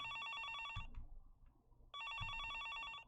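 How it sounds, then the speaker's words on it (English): A telephone bell rings in two bright bursts separated by a short quiet gap, fairly close and clear, with no voices. "The phone kept ringing, non-stop."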